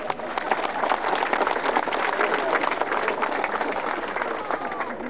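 Dense applause and crowd noise from an audience saluting the mayor at an outdoor bridge inauguration in Cochabamba, sustained and steady for several seconds with a broad wash of clapping and no clear speech.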